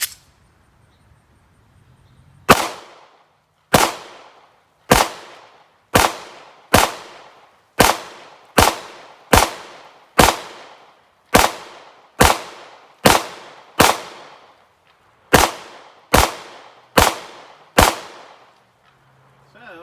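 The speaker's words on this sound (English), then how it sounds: "let's load our 17 rounder, and we'll shoot at the same target" A Taurus G3 pistol fires a 17-round magazine at a target, about seventeen sharp, loud shots at a fairly steady pace that quickens slightly, with nothing else heard between them.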